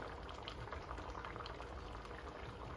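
Yams and sweet potatoes with butter bubbling in a pot on the stove, a steady close simmer of popping liquid that fills the whole stretch without a break, with no voices.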